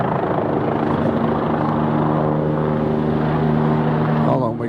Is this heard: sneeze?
no